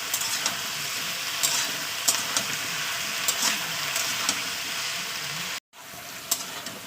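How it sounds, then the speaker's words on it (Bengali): Boiled figs frying in hot oil give a steady, dense sizzle with crackling pops throughout, briefly cut to silence near the end before the sizzle resumes. "এবার এটাকে আমি তেলের উপর ভালো করে ভাজবো।"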